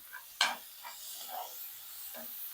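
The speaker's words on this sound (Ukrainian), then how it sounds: "Смажимо моркву з цибулею буквально 5 хвилин" Faint sizzling from carrots and onion frying in a pan, with a sharp clatter near the start and occasional soft stirring scrapes.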